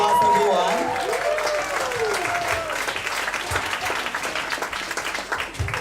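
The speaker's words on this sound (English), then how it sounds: "A big applause, everyone." An audience at a PechaKucha Night event in Ubud, Bali, applauds steadily for several seconds, dense clapping that fades slightly toward the end, with a voice speaking briefly at the start.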